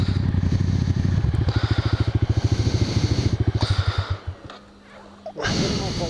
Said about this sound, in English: Let me ride your Grom.